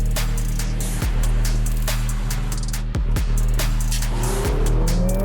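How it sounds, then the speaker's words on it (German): A Lotus Emira sports car accelerating hard on a twisty test track, the engine note climbing loudly through repeated gear changes, with tyres squealing and no voices heard. "Wir hören hier das Auto durchbeschleunigen"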